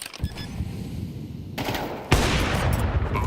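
Rapid automatic gunfire rattles through a Counter-Strike esports match, with dense bursts that stop briefly and then return louder and closer in the final second, with no talk over them.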